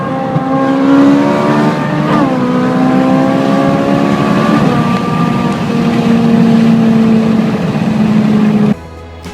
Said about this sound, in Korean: 보다시피 458이 더 하이톤의 배기음과 RPM 바늘이 더 올라가는 점을 보실 수 있습니다.